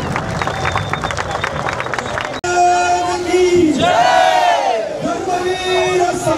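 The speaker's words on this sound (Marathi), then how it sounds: "सगळ्यांनी जोरदार टाळ्या वाजवत." A large crowd at the inauguration of the 180-foot Sambhaji Maharaj statue in Moshi claps and cheers loudly, a dense roar of applause and raised voices with a shouted chant rising above it, close and sustained.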